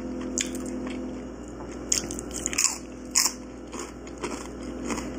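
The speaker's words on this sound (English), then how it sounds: "I'm going to take a bite." A crunchy bite into Chipotle food with guacamole, then wet chewing with crackles and squishes, close up in a quiet room with no talking.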